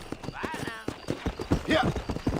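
A horse sets off at a canter in the Western video game Red Dead Redemption, its hoof clip-clops running under a voice and a snorting horse.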